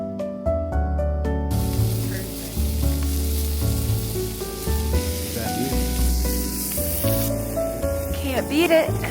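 Brussels sprouts crackle and sizzle steadily in a hot pan at a winter campsite, a continuous close frying hiss with occasional stirring clatter and faint background tones.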